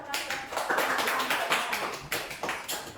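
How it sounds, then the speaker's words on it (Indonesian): Scattered, close-up applause from a small classroom group thanking a student after her presentation, a few seconds of light uneven claps. "Tepuk tangan buat Ida"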